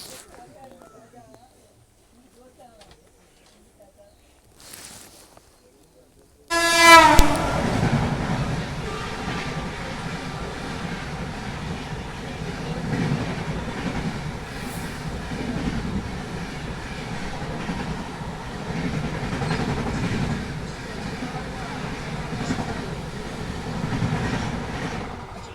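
A Sampark Kranti express train on the Hazrat Nizamuddin to Tirupati route rushes along the rails in heavy fog. Quiet murmurs come first, then a sudden loud onset of continuous rumbling roar and rhythmic wheel clatter that persists to the end.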